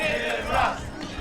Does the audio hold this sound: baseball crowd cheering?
yes